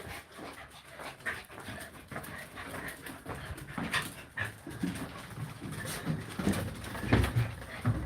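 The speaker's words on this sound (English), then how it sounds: "All the dogs just running along." Several dogs moving through a house, with soft padding, panting and faint whimpering over steady room noise, scattered small thumps and rustles throughout; no clear speech.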